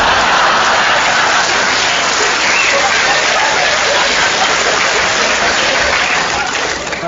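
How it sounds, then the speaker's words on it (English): A loud, dense round of applause from a comedy club audience at a stand-up show, a continuous wash of clapping that holds steady and fades slightly at the close. "I don't quite know what that round of applause was for"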